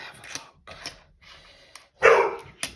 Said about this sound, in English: Now the dog's found something to bark at.